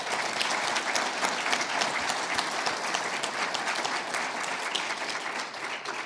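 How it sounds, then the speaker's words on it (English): An audience at a healthcare revenue cycle summit panel applauds steadily for several seconds, a dense, even clapping that fades slightly at the end, with no talking over it. "Let's just give them a round of applause for their work."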